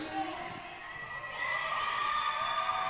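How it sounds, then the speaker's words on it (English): A home crowd cheers loudly as a roller derby jam starts, the broad roar of the arena swelling and holding strong throughout with scattered shouts and whoops. "a big cheer coming from the home crowd"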